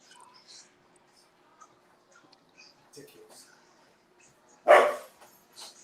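A pet dog gives a single loud bark near the end, nearby and distinct, set against quiet room tone with a few faint earlier noises.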